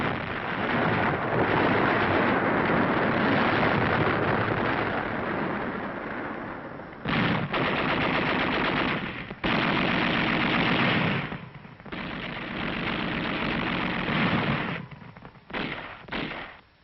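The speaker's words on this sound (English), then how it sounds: "Then, one of our machine guns opened up." Machine gun fire from 1945 Okinawa combat footage of the 6th Marine Division: loud, dense sustained bursts with short gaps, booming and harsh, heard alone without speech.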